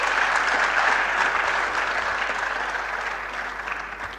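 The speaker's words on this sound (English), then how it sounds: "Please give him a round of applause." A large audience at a university maritime studies annual lecture gives a sustained round of applause, with dense, even clapping that starts loud and fades gradually over several seconds.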